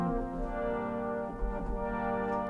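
Synth strings recreating a song, made with the DRC synthesizer, hold a sustained, lush chord. The tone shifts slightly partway through and carries on steadily, with no voice over it.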